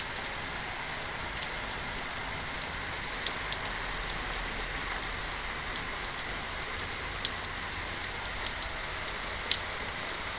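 Light drizzle falling steadily on a cloudy morning in Chittaranjan, a soft continuous hiss of raindrops with faint scattered taps, even and unbroken throughout with no voices.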